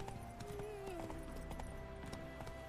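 Roach, the horse in The Witcher 3, gallops in a steady run of soft hoofbeats, faint and continuous beneath sustained tonal game music.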